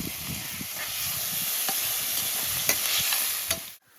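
Finely chopped onions and slit green chillies fry in hot oil in a pan for a salna, giving a steady loud sizzle with a few stirring clacks before it cuts off.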